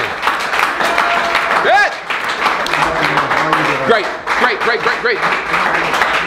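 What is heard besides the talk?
audience applause for a guest at a business event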